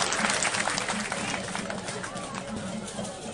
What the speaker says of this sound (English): je voulais demander à vous tous de vous applaudir vous-même parce que vous êtes mobilisés